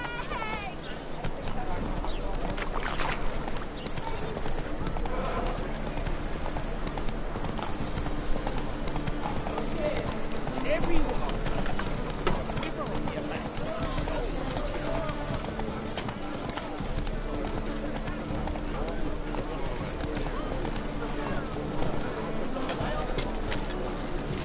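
Roach the horse galloping in The Witcher 3: Wild Hunt, a rapid, steady clip-clop of hooves running close by throughout, with voices talking over it.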